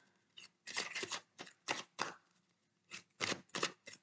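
A tarot card deck being cut and shuffled close by, heard as a string of quick, crisp riffling bursts in two clusters separated by a short pause, with no talking.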